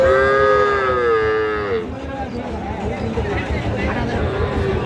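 At a cattle market, a bull calf gives one long, wavering moo up close, then the lowing fades into the surrounding crowd chatter and market bustle.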